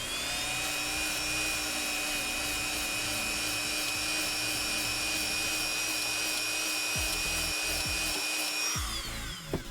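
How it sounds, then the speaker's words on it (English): A Dremel rotary tool runs at a steady high-pitched whine, close and loud, as it smooths the uneven, fuzzy cut edge of a cosplay craft piece; the tool spins down and stops near the end. "You can also use the Dremel to fix that."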